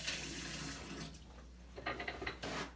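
A kitchen tap runs while hands are washed beneath it, a close, soft, steady splash that breaks up into uneven spatters toward the end, with no talking.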